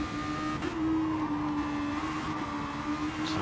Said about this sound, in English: You can see Reg GT short shifting through the gears as he works his way up